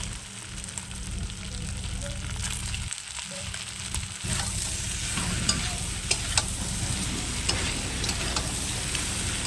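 Fried potatoes go into a pan of browned mutton curry with ginger and are stirred, giving a continuous oily sizzle with scraping and clinking spoon strokes against the pan, fairly close and steady, with no talking.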